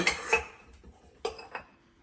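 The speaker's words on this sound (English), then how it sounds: "Scrape all this out. Make sure we get it all in there." A utensil scrapes a cheese mixture into a mixing bowl, giving a few sharp, close clinks and scrapes against the bowl in a short, quiet sequence with no talking.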